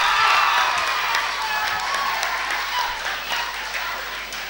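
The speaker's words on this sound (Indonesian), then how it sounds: "Sekali lagi tepuk tangan buat Pak Freddy" Audience applause at a university faculty graduation (yudisium) announcement, a steady, dense patter of many hands clapping that holds throughout and eases slightly toward the end.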